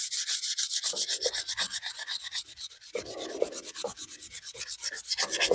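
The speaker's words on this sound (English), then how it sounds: "I'm just giving a light little sanding here." Rapid back-and-forth scratching of sandpaper by hand, lightly sanding a metal finish, a steady rhythmic rasp close to the listener with no talking.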